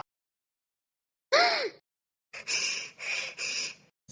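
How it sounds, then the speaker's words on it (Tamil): A person breathes heavily while out of breath: one loud gasping intake, a pause, then three quick, strained panting breaths, all close and with no speech. "மூச்சு வாங்குதா?"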